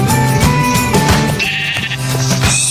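Sheep in the video game Minecraft bleat repeatedly, loud overlapping wavering cries that fill the whole moment with no talking.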